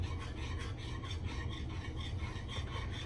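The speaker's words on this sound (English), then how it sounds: "And whisk that in." A whisk scrapes rhythmically through chicken gravy in a pan, a steady rasping swish repeating several times a second, close and alone without talk.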